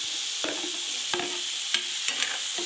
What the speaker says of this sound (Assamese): মই এতিয়া ইয়াত কাটি লোৱা আলু কেইটুকুৰা দি দিম।